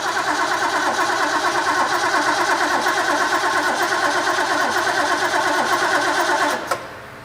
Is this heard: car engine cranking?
yes